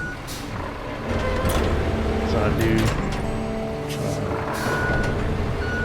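A forklift truck driving around a dump area in the game Road Craft sounds a loud, repeating reversing beep over a rumbling engine, while someone talks over it.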